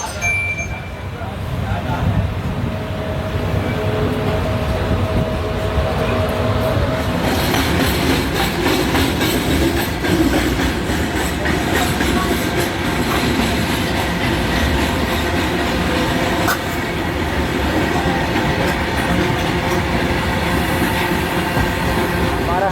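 The Kerala Express passenger train, running from Thiruvananthapuram to New Delhi, passes close by with a steady loud roar and continuous rhythmic clatter of wheels on rails that swells and holds throughout.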